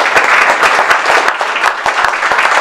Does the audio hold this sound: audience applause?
yes